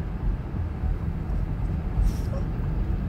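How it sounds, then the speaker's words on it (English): Low, heavy rumble of a train locomotive drawing nearer, steady and droning, with a brief hiss partway through. "Here comes the engine."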